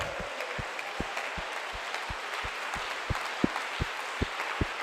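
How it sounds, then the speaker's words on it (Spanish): A church congregation claps in a thin, uneven applause, with individual hand claps standing out at a loose rhythm over a faint background hiss, with no talking. "Le damos un aplauso."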